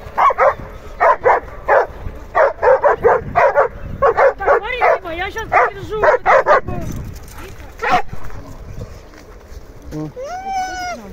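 A dog barks in quick repeated yips, then whimpers and whines near the microphone, with a short rising whine at the end; a person speaks faintly in the background.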